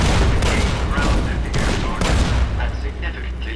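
Securitron firing its M235 missile launcher in Fallout: New Vegas, a dense, loud volley of explosive bursts with repeated sharp onsets in the first two seconds that tails off into rumble.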